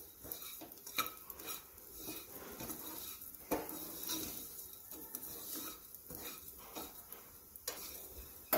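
Fennel seeds roast in ghee in a frying pan over a low flame, stirred with a spatula that scrapes and clinks against the metal in irregular strokes, with a faint sizzle underneath.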